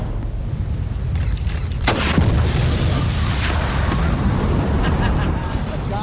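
Cannon shot blowing up a Peel Trident micro car, a loud deep boom followed by sustained rumbling blast noise that stays heavy throughout.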